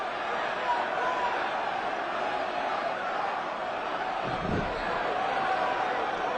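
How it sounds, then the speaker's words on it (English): A sellout wrestling arena crowd at WrestleMania 20 keeps up a steady, dense roar of chanting and noise that fills the whole stretch at an even level, with a brief louder low surge near the end. "Got a sellout chant from a sellout crowd."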